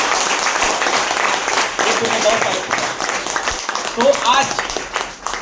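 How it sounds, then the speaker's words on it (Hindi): An audience at a leadership program event breaks into sustained clapping, a dense wash of applause with a voice speaking over it. "तालियां"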